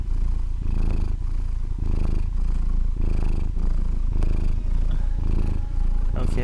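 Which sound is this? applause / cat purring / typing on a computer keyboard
cat purring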